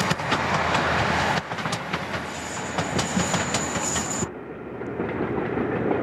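Diesel-hauled train rounding the Victorian horseshoe curve between Ben Odhar and Ben Doran on Scotland's West Coast line, a steady rumble with rhythmic clickety-clack of wheels over rail joints and a thin high squeal midway, close and loud.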